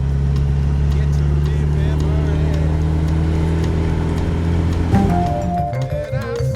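An MGB GT classic coupé cruises in fourth gear at about 1500 rpm with a steady, loud, low engine drone. The drone eases off near the end as a higher tone briefly appears.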